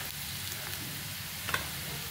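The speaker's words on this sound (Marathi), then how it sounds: "अर्धा चमचा हिंग टाकूया, छानपैकी हिंग आणि हळद पण आपल्याला अशी परतून घ्यायची" Asafoetida and turmeric sautéing in oil, a soft, constant sizzle with a single faint scrape of a spoon partway through.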